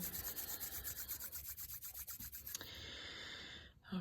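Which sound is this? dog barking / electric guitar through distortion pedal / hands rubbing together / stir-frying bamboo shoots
hands rubbing together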